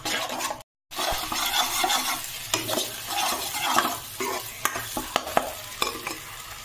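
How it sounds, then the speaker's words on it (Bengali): Masala with a spoonful of tomato sauce being stirred and sautéed on low heat in a pan for a Bengali fish curry, with close, steady sizzling and scraping spoon strokes, plus a few sharp clinks of metal against the pan. "এইবারে লো হিটে আমি মশলাটা কষাবো।"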